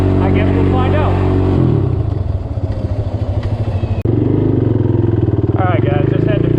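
Honda TRX 450R ATV engine revving loudly and close, dropping to a rough idle clatter before revving up again.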